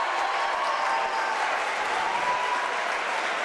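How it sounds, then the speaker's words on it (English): A high school basketball crowd applauds a senior player during a boys' game, a steady wash of clapping from the stands, moderately loud and even throughout. "Nice round of applause for the senior,"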